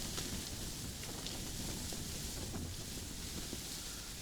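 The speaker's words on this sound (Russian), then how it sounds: "А ветер на улице такой, что готов палатку оторвать вместе со льдом." Strong wind during ice fishing on a frozen lake in a snowstorm buffets the microphone in a continuous, dense rush, with steady gusting noise and no voices.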